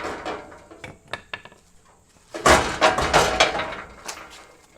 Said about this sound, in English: Maybe just one tap with the hammer, it should come off.